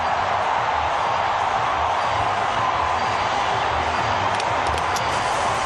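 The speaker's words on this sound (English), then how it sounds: "Listen to the crowd." Cricket stadium crowd at a South Africa versus England T20 match roars after a wicket, a loud, unbroken wall of cheering sustained evenly throughout, with commentary faintly beneath.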